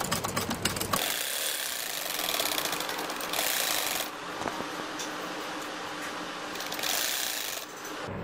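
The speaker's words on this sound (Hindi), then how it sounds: "अभी हम सेकंड सिलाई लगा रहे हैं ऊपर वाली स्ट्रिप पर।" A sewing machine runs steadily, stitching a decorative strip onto the cuff of a poncha, the hem of a trouser leg. Its dense mechanical whir carries on for several seconds with brief changes in intensity, and no one speaks.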